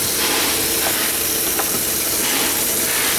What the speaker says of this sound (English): What you hear is your pump running